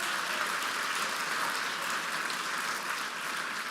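An audience claps for $2,500 donors at the Blanchet House Brunch in March 2023, a dense, even burst of many hands filling the room without a break.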